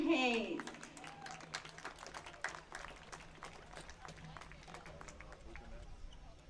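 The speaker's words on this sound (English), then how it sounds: "Please give a round of applause for Braxton Hayes." Audience applause for a student being honoured at an event held alongside a Corry Beavers versus Eisenhower Knights track meet, heard as scattered, moderately distant claps.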